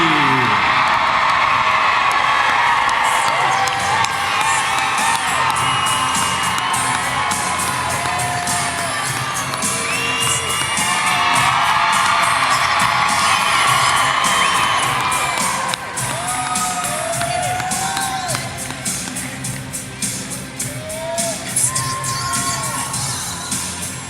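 A large indoor crowd at a girls basketball region awards ceremony cheers, whoops and claps loudly and steadily, with children shouting throughout, a sustained roar that barely dips across the whole stretch.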